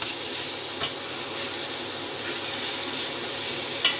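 Carrot halwa is roasted and stirred in a pan, a continuous soft sizzle broken by a few sharp scrapes of the spoon against the pan, close up with no talking.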